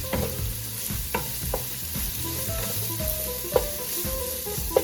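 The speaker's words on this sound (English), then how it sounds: "You don't want your onions to burn. Okay? You want to sweat the onions." Onions sweat in a pan for marinara sauce, a soft continuous sizzle broken by repeated spatula scrapes and stirs, with a couple of sharper knocks.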